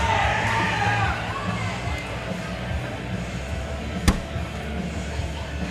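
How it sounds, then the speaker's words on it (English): Loud crowd cheering, yelling and whooping from nearby pro doubles pickleball courts, a steady dense roar throughout with one sharp crack near the end. "Those crowds are loud over on court 1 and court 2"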